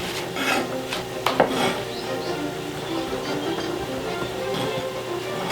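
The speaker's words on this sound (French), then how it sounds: "Champignons, table, couteau blanc bien sûr, on les mince." A white knife slicing button mushrooms on a cutting board: continuous close cutting, rubbing and scraping with a few sharper knocks on the board, fairly loud.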